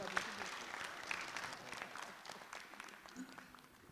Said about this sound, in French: On applaudit d'abord.